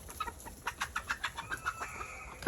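Farm chickens cluck outdoors in the morning as they are let out of their coop. A quick, uneven series of soft clucks and short calls sounds at moderate distance, ending with a louder squawk.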